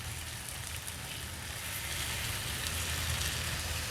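Chicken sizzling in a pan over a low flame, a steady dense crackling hiss that holds level and close throughout with no talking.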